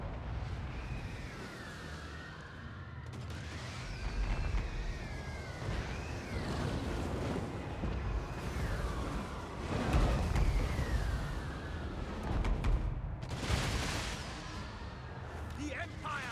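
Hellstorm rocket batteries firing in a Total War: Warhammer 2 battle, a rumbling roar of launches and blasts building in waves under battle music and shouted voices.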